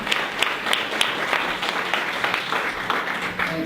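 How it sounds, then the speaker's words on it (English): Audience applause welcoming Dan Brady of the Lincoln Motor Company at a talk, a full, steady round of clapping from a seated crowd with no talking over it. "let's give him a big round of applause"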